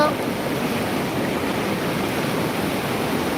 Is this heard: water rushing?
yes